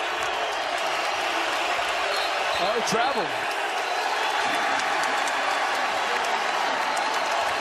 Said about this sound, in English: And here comes the crowd again at the pit.